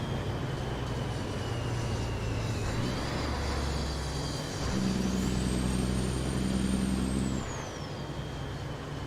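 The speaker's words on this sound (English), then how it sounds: "I just saw that, and I'm on full brakes" In American Truck Simulator, a truck brakes hard while driving on snowy winter roads in Canada, a steady engine and road rumble with hissing brake tones and a rising whine, continuous and fairly loud, no talking.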